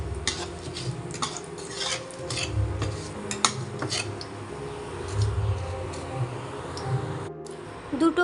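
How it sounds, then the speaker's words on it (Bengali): Whole spices — bay leaf, dried chillies, cloves, cardamom and cumin seeds — stirred in hot oil in a pan, a close series of metallic spatula scrapes and clinks over a low, gentle sizzle, with brief pauses. "নেড়ে নেব।"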